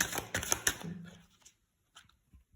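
An oracle card drawn from a deck and set down, a short cluster of close papery slaps and flicks followed by a few faint taps before quiet.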